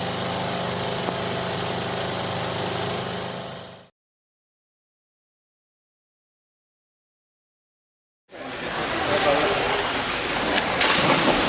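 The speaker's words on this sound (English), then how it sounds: "And it's raining as well." Rain falls outdoors at a triathlon finish line in the Brecon Beacons and Gower area, a dense, steady hiss that cuts out completely for a few seconds and then returns, slightly louder and rougher.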